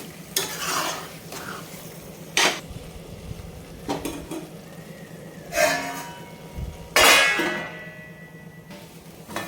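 A spoon stirs and scrapes prawn curry in a metal pan, with a steady low sizzle under repeated clanks and scraping strokes, some sharp and loud, spread through the clip with no talking.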